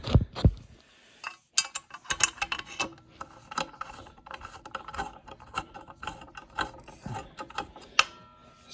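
Bolts are threaded in by hand and with a ratchet while fitting a BBR skid plate to a 2022 Honda CRF110, giving quick metallic ratcheting clicks and clinks in short, irregular bursts, close and fairly quiet.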